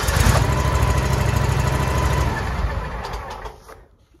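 A Toro Z4000 zero-turn lawn mower engine runs with a loud, steady buzzing drone, then shuts off and winds down to silence near the end; nobody talks.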